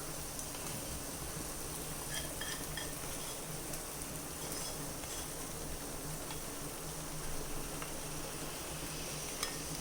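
Cooked sago stirred into a banana payasam mixture, a steady low sizzle and bubbling with occasional soft scrapes and clinks of a spoon against the pan, continuous and fairly quiet with no talk.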